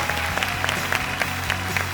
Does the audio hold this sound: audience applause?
yes